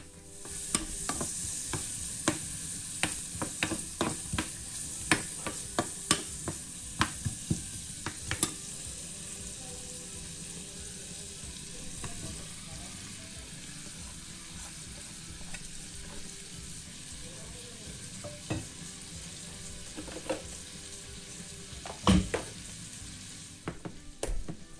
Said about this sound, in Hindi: मैंने प्याज को थोड़ा सा बस ऐसे थोड़ा सा इसको हिलाया था, और हिलाने के बाद इसमें चिकन डाल दिया है